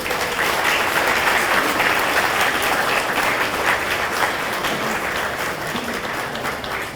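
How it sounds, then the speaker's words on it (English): Loud, sustained applause from a large crowd at a high school athletic hall of fame induction, steady clapping filling the space and easing slightly toward the end. "Let's give them all a big round of applause again"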